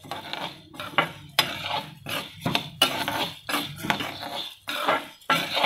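Lentils dry-roasting in a kadai are stirred with a metal spoon, giving repeated scraping clinks and knocks against the pan in irregular strokes about once a second, close-up, with no talking.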